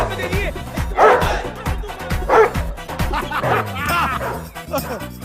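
Dog barking and yipping in a dubbed Hindi comedy film, repeated loud close yelps over a rhythmic music beat.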